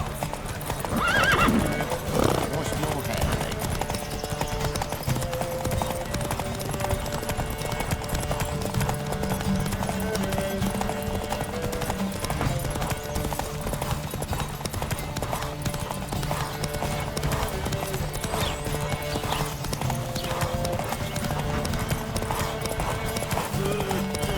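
Rapid hoofbeats of a galloping horse in The Witcher 3 pound steadily throughout, mixed with a brief whinny early on and a dense, continuous game soundtrack behind.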